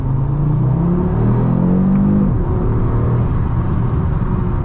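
A 2022 Audi RS3 sedan's 400 hp five-cylinder engine accelerates from inside the cabin, a loud droning growl rising in pitch through a gear, dropping at a shift, then pulling again steadily.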